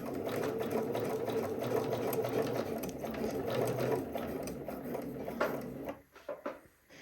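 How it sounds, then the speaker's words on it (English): A sewing machine runs a straight stitch through swimsuit elastic, with a steady rapid mechanical whir for about six seconds before it stops, followed by a few soft handling clicks. "We're just going to sew until we've sewn through that elastic."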